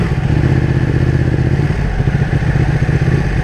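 A 2015 Ducati 1299S motorcycle engine runs loud and close, a steady throbbing rumble with a pulsing low beat and no speech over it.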